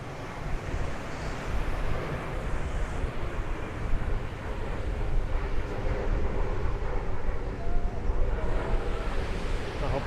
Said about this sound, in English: It's actually getting quite windy as I walk down.